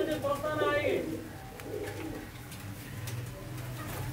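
Blood tatti pigeons coo close by in soft, rolling, throaty calls, with a voice talking and faint outdoor chirps under them.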